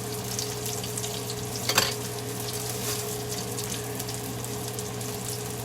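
Rice cooks in a pan on a stovetop, giving a faint, steady bubbling simmer with a low hum underneath and one brief clink partway through.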